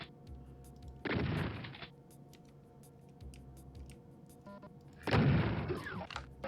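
In Doom Eternal, two loud shotgun blasts about four seconds apart each leave a roaring, sustained burst, with sharp clicks and faint game ambience between them.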